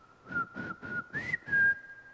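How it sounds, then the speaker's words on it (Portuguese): A person whistles a short run of five quick, clear notes, the last two rising and held slightly longer, close and alone with no talk. "Eu assobio para ela."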